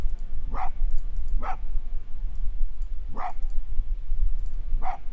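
A fox barks in the video game Spirit of the North, giving four short, sharp yips at roughly even intervals over a low rumbling ambient background.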